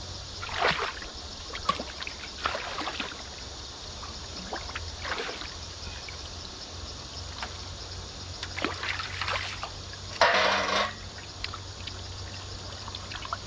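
Water pours over snails coated with vinegar in a bowl, trickling and splashing in intermittent bursts, with one louder, heavier pour near the end.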